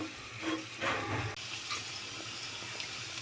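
Grated carrots tossed into a hot pan for carrot halwa give off a soft, steady sizzling hiss, fairly quiet, with a couple of brief stirring bumps near the start and no talking.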